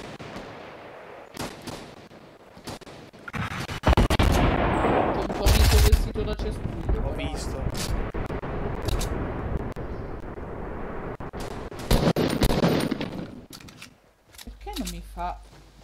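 Pump shotgun in a shooter video game, several sharp blasts scattered among other gunfire and game noise, with bursts of louder shooting mid-clip and near the end, under intermittent talk.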